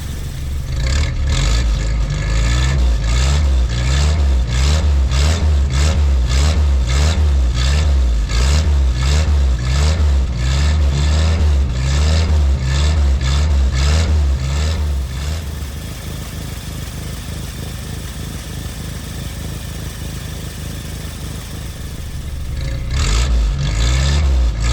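A 1952 Willys pickup engine with a cracked block runs loudly and steadily close by, its rhythmic chugging firing pulses holding for about fifteen seconds before easing to a lower, quieter idle and swelling again near the end.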